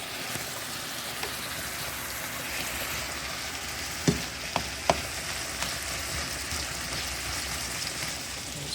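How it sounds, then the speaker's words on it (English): Lasagna noodles boiling in a pot, a steady bubbling hiss with a few sharp clinks partway through, no talking. "These noodles are boiling down good."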